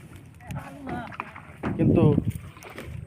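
A trawler boat on the Padma river carries passengers across, its rumbling motion and wind buffeting the microphone under nearby voices talking.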